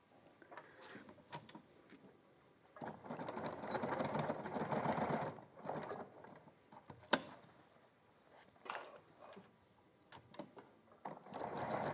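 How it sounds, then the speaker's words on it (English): A sewing machine stitches a hidden slip pocket in short bursts, a soft mechanical rattle starting and stopping quietly across the seconds. "And we will sew."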